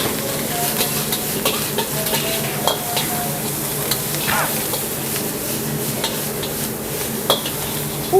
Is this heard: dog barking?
no